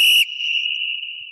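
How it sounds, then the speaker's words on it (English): A single sharp, high whistle signals that time is up in a sports talk-show quiz round. It starts with a strong blast and holds as a steady tone for over a second. "If they don't finish, they'll hear this whistle"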